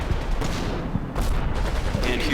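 Continuous battle noise in the WWII tactical game Combat Mission: Battle for Normandy, a dense wash of gunfire and distant explosions with scattered sharper cracks throughout.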